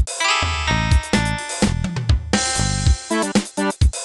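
Intro music from the MS-DOS video game Inspector Gadget Global Terror: loud, choppy synthesized tune with punchy bass notes and bright stabs in an uneven, stuttering rhythm, played alone.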